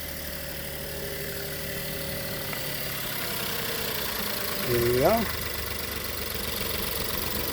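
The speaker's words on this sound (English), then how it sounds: "See, the engine is running okay." A 2018 Suzuki Baleno's engine idles with a steady low hum, heard up close. Someone speaks briefly over it partway through.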